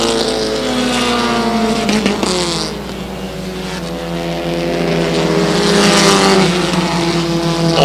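Race cars at a short-track racing event, with loud, sustained engine drone and harmonic whine shifting in pitch as cars approach and pass, continuous and close throughout.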